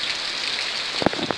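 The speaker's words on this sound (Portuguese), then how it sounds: "mas tá uma chuva aqui que eu não sei se não vai estrovar a gravação" Heavy rain falls steadily outdoors, a loud continuous hiss with a few sharper drops and knocks near the end, heard without speech.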